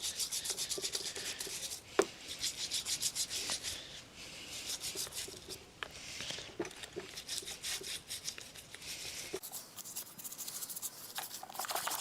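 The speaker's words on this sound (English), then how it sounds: "using this cloth to get the first gunky grease off" A cloth rubs and scrubs gunky grease off parts of a Honda VFR400 NC30 motorcycle under restoration, giving close, soft repeated wiping strokes in an uneven rhythm with an occasional small knock.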